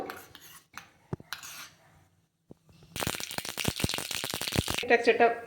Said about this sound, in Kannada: ಸಾಸಿವೆ ನೀಟಾಗಿ ಚಟಪಟ ಅಂದಿದೆ.